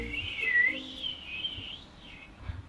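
A person whistles a wavering, sliding tune in a comedy scene, close and fairly soft, with a faint low background murmur and no speech.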